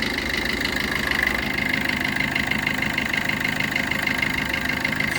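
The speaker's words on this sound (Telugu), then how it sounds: "మీకు ఒక్కసారి ఆ ఇంజన్ చూపించేసి" The diesel engine of a 2017 Maruti Brezza ZDi idles with an even, continuous mechanical hum and fine rhythmic knock, heard close and alone.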